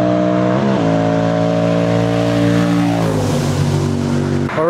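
Cars speeding past on a road near a motorway, loud and close, with engines revving and pitch sliding down as they pass, one after another, with no talking.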